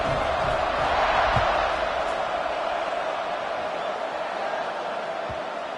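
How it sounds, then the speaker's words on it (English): A college football video game stadium crowd, Oregon against Notre Dame, keeps up a broad, steady roar after a score, a dense wash of distant voices that slowly eases off over several seconds. "this crowd is buzzing after that last score."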